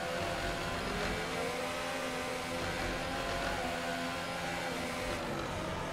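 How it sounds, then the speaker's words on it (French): A Formula 1 car in the F1 2018 racing game with an engine problem, giving a continuous loud droning, whirring engine tone with a rough low rumble, steady throughout with no talking. "On l'entend bien cette année sur le jeu quand il y a un problème moteur."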